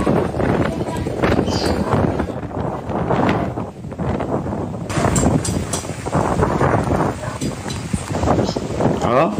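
Strong typhoon wind buffets the microphone in Batanes, gusting loudly and unevenly beside flooding streets while someone talks excitedly over it.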